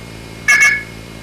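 Two quick dual-tone pulses of 1700 and 2200 hertz, the coin-deposit signal used in phone phreaking, loud and close over a faint steady hiss.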